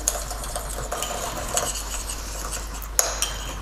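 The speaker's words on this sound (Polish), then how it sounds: "Teraz niepełna łyżeczka soli i tę sól rozcieram razem z czosnkiem i imbirem." Salt being rubbed together with pressed garlic and fresh ginger in a kitchen, a soft scraping and stirring with light clinks of utensil against a dish and a steady low hum beneath.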